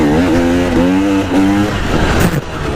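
A motorcycle engine revs hard and close, its pitch rising and falling in short steps as gears drop, loud and alone before fading into a rougher roar.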